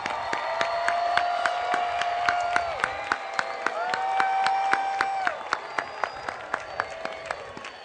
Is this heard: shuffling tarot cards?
no